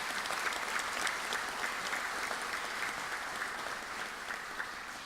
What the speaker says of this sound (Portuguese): Uma salva de palmas para os pais e para a tia Marran e para os irmãos.